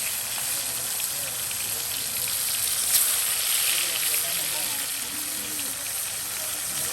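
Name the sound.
pieces of rita fish frying in oil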